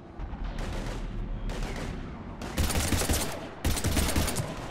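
Heavy battlefield gunfire from Mass Effect 3 comes in loud, dense waves of rapid shots, with sharp surges of sustained automatic fire and no clear voices.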